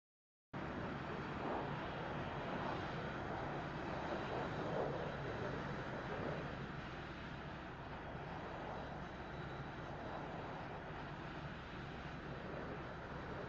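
Bf 109 piston engine droning steadily in the DCS flight simulator, a continuous broadband roar that holds at a constant loud level for the whole stretch after starting abruptly.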